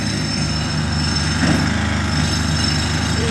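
A jackhammer outside pounds in a steady rapid rattle, heard as a continuous loud mechanical chatter filling the background with no voices.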